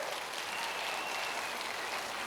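Audience clapping at a Rajasthan celebration event, a steady dense wash of applause that holds evenly for about two seconds with no voices over it.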